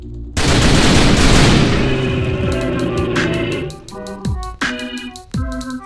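Gunfire in The Typing of the Dead: Overkill starts with one loud blast, then a rapid run of sharp shots follows in quick bursts, punctuated by heavy booming impacts.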